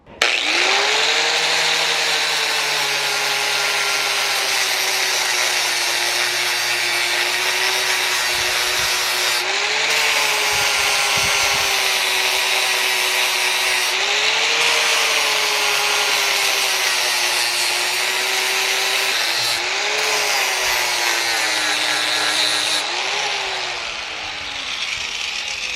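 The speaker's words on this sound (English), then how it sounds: "So let's get a flap wheel and smooth that out." Angle grinder with a flap wheel smoothing a steel base plate for a transmission jack adapter on a Harbor Freight floor jack, a loud continuous whirring grind with pitch dips as the wheel bites, steady for about 25 seconds with no talk.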